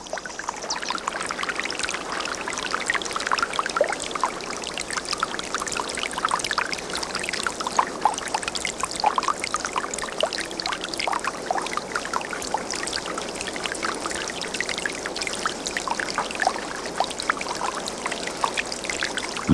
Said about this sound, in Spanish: El agua captada por capilaridad en la montaña era distribuida por canales y jugaba en fuentes y cascadas